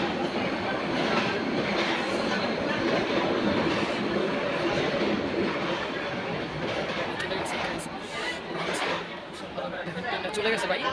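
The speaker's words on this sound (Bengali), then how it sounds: "চলে গেছে ভাই, গ্যাস ট্রেনটা চলে গেছে" A gas train headed for Chittagong rumbles past with a loud, dense roar and rattle of wagons and faint clicking at the end, while people talk over it.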